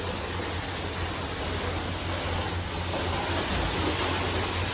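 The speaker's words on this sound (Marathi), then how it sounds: "पाण्याचा आवाज खतरनाक येतो इथे" Steady, loud rushing water at Tamhini Ghat fills the scene with a continuous broadband roar, unbroken and close, with no voices over it.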